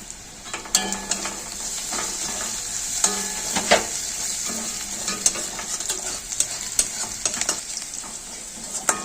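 Onions frying with salt and black cumin for a tempering, a steady close sizzle with frequent stirring clicks and light scrapes of a spoon against the pan.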